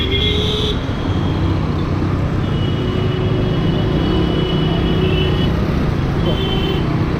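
Car moving slowly through crowded street traffic in Panchavati, Nashik, a continuous engine and road drone with passing vehicles and faint horn tones, voices murmuring in the background.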